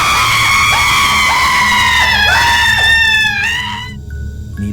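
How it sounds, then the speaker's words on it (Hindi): A woman screams in a long, loud, wavering cry that slides up and down in pitch, then trails off into quieter fading wails, set in a dark, cobweb-covered haunted mansion. "अचानक हवा में किसी औरत के चीखने की आवाज आई।"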